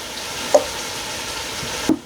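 Pork chops browning in an Instant Pot give a steady, moderate sizzle throughout, broken by two brief soft knocks.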